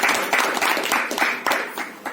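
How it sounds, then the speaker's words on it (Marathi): Audience at a school alumni reunion gathering clapping to welcome a couple, a short burst of close, fairly loud hand claps with an uneven rhythm. "त्यांचं आपण टाळ्या वाजवून स्वागत करूया"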